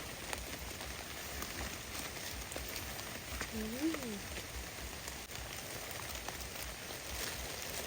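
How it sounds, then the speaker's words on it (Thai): Rain falls steadily outdoors as a faint, even hiss, with a short whistling chirp partway through. "ฝนตก"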